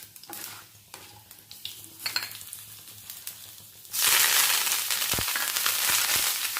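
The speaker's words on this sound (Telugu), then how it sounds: "ఇప్పుడు మనం ఇందులో కరివేపాకు కూడా వేసేద్దాం." Curry leaves dropped into hot oil already crackling with mustard seeds and cumin for a brinjal and drumstick curry: soft stirring and clinks give way to a sudden loud, steady sizzle that holds to the end.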